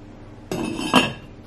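A metal lid set onto a pot of Zuppa Toscana soup, two quick close clinks about half a second apart, ringing briefly before fading into quiet.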